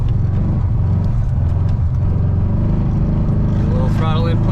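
A 1970 Volkswagen Beetle's air-cooled engine drones steadily under light throttle while driving through snow on a -21°F night, a low, loud rumble inside the car with a voice briefly over it near the end.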